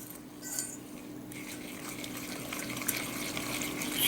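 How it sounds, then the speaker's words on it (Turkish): Milk is poured from a glass into a bowl in a steady, close splashing trickle that builds slightly toward the end, with a faint clink of kitchenware. "Bir su bardağı süt ilave ediyorum."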